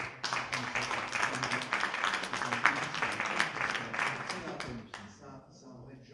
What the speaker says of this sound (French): Madame Sylvie van der Bouwet, qu'on peut applaudir